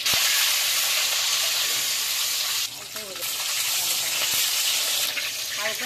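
Eggs fry in a pan with a bright, steady hiss and sizzle. The sound swells in short bursts of sputtering now and then, close and fairly loud.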